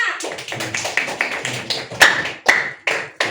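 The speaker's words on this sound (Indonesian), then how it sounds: "tepuk tangan untuk kelompok 5" A classroom claps for a student group in a short, regular run of sharp, close claps, roughly a dozen evenly spaced beats with a couple of louder accents, with faint voices in the background.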